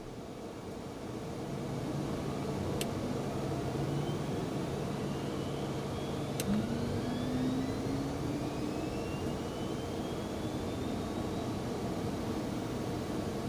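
Twin jet engines of a Phenom 300 spooling up in X-Plane 12, a steady broadband roar joined by two rising turbine whines, the second starting a few seconds after the first, building and holding close and loud.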